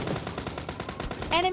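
Rapid automatic gunfire in the PUBG Lite video game comes as a quick rhythmic burst of repeated shots, loud and near, and ends in a brief tonal ring.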